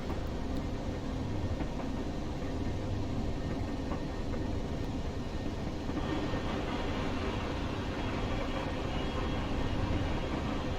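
A Class 31 diesel locomotive runs in Train Simulator Classic on the Durham to Wearhead line, giving a steady, loud engine drone and rolling rumble that thickens slightly partway through, with no talk.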